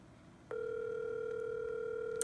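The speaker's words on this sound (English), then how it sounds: "I can make a phone call, which is going to go to my phone, and it will start to ring." A GPS watch connected to a cell phone places a call, and a steady electronic ringback tone starts abruptly and holds continuously at moderate loudness, with no speech.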